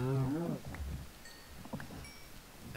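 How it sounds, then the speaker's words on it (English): A cow moos loudly at the start, a short harmonic low call, in the Minecraft video game, followed by quieter game sounds and faint noise. "I'm slaughtering every cow in sight."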